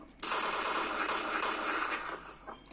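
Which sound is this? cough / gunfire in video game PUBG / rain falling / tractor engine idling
gunfire in video game PUBG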